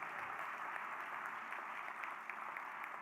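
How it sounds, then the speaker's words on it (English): Applause from a gala audience carries on as a steady, soft patter of many hands, fairly distant and even throughout. "Let's have a round of applause for his."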